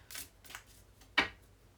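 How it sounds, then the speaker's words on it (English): Tarot cards being shuffled by hand give three soft riffling bursts, the last one sharper and louder, close and quiet with no talking. "You saw me shuffle, right?"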